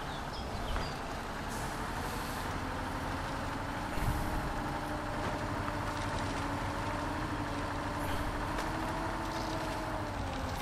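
Truck engine in the off-road driving game MudRunner, hauling a load through forest; a steady low rumbling drone runs continuously with a sharper hiss or clunk near the middle, no talking.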